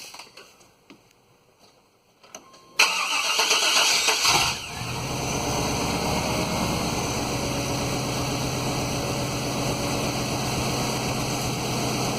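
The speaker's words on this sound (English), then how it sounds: "It looks like we'll have to start it up. Alright, I'm going to get ready to start it." A 1995 Chevy 1500 pickup truck engine cranks and catches after a short pause, then settles into a loud, steady idle rumble that continues to the end.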